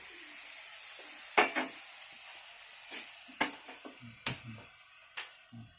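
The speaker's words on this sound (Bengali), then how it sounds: "শুকনো লঙ্কা ভাজবো, ভাজি" Dried red chillies fry in a pan in a village kitchen, a soft continuous sizzle broken by several sharp clicks and pops from stirring, with no talking.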